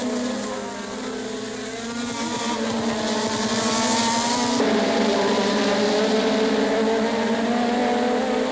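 Formula 1 race cars of the 1986 season roaring past during an overtake, a dense, loud engine howl that rises, shifts pitch midway as one car pulls by, and keeps droning on without talk.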